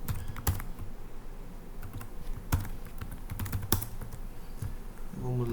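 Typing on a computer keyboard while logging into a USP single sign-on system, a steady patter of key clicks with a few sharper strokes, close and continuous throughout.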